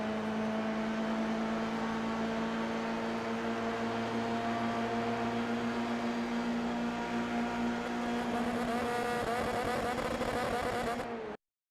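Loud, steady whine of an F3 race car engine on the Road Atlanta straight in a sim racing game, holding a high, strained pitch near its 249 km/h top speed for about eleven seconds before cutting off abruptly.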